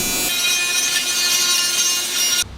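Loud, harsh, high-pitched grinding of a tool cutting a hole through metal on a turbocharged K24-swapped Toyota MR2, continuous for a couple of seconds before stopping abruptly.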